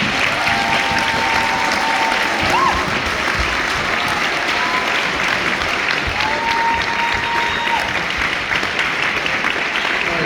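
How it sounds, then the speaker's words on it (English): Sustained applause from an audience at a high school track and field banquet, steady and dense for the whole stretch, with a few faint voices and whistles mixed in. "let's give these guys and young ladies a big round of applause"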